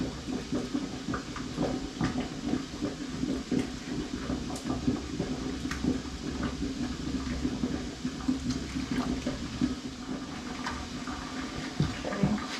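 Carrot cooking water is poured into canning jars with salt, giving a steady, gurgling stream of liquid at close range that runs without a break for the whole stretch.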